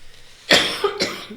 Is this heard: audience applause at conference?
no